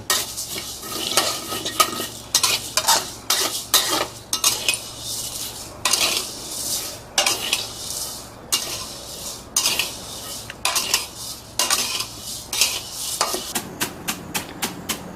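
Raw rice is dry-roasted in a pan until golden brown for a Thai field-crab curry. A utensil scrapes and rattles the grains in quick, repeated bursts, loud and close, with no voices.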